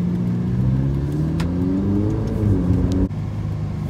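A Ferrari 488 engine revs hard under acceleration, a loud, steady mid-pitched roar that climbs in pitch, with a brief dip near the end as the gear shifts, heard from inside the car.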